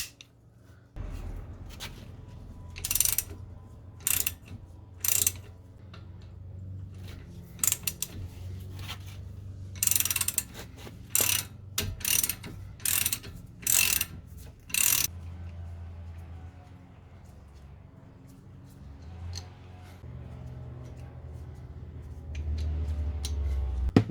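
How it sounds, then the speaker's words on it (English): A 14mm socket and wrench work on brake caliper bolts, producing intermittent clicking ratchet bursts and metallic handling noises in short close clusters with quiet pauses between. "To remove these caliper bolts you're gonna need a 14mm socket"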